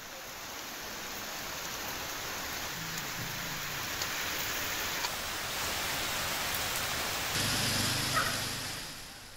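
Heavy rain pours down steadily as a dense, continuous hiss, loud and enveloping, swelling slightly near the end, with no talking.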